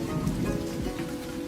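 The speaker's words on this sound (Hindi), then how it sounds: "बाहर इतनी बारिश हो रही है" Steady rain falls outside a cave in an animated children's story, a dense continuous patter with no talk.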